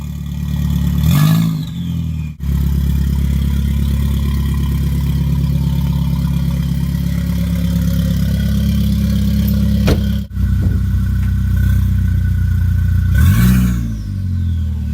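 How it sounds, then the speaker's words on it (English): A Mk4 VW Golf fitted with a new exhaust, loud and close, holds a steady throaty hum throughout, with two sharp revs near the start and end and a brief dip in the middle. "Give it a low rev."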